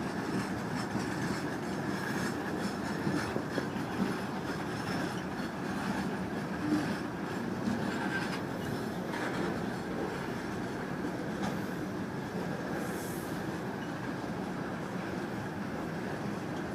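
A Florida East Coast freight train, number 202, rolls past very slowly, giving a faint, continuous low rumble with soft wheel clatter and no speech.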